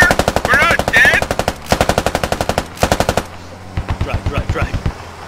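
Rapid bursts from a mounted machine gun in a video game, loud and close, firing in several long strings with brief gaps and shouting voices over the shooting.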